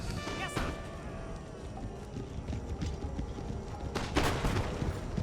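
Scattered musket volleys crackle across an Empire: Total War battlefield, with hoofbeats clopping beneath, a louder burst of fire near the end, and no talking.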